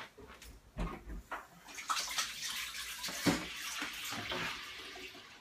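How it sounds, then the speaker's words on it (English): Hands are washed under a running tap, with quiet splashing and gurgling water that swells and dips in soft, irregular bursts, close by and fairly faint. "Alright, just wash my hands."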